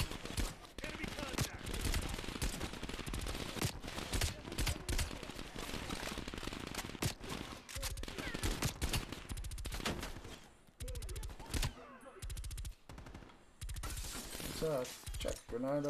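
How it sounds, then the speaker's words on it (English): Rapid automatic gunfire in Call of Duty: Cold War aimed at a boss enemy, sustained loud bursts with sharp cracks and breaking sounds, brief pauses between volleys, with a voice speaking over the action. "Just keep shooting him in the head if you can."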